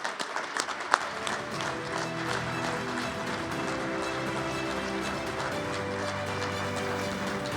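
Sustained applause from a banquet audience at the St. Louis Sports Hall of Fame winter enshrinement dinner welcoming inductee Dewayne Staats, starting with a few sharp claps and swelling into steady, dense clapping that holds evenly to the end.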